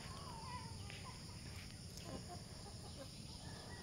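Chickens fed on yellow cracked corn cluck faintly and intermittently against a steady farmyard background hum, with no clear talk.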